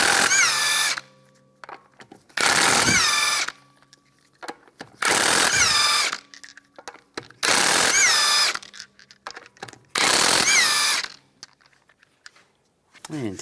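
Five loud bursts of a power impact tool spinning off the lug nuts of a 2015-2019 Lincoln MKC wheel with a 19mm socket, each lasting about a second, with brief quieter gaps between them.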